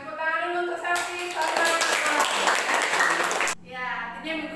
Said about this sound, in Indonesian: Tepuk tangan dulu untuk selfie.